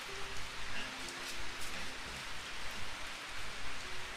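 Steady rain falls and patters on a surface, a constant dense hiss throughout with a faint low hum underneath.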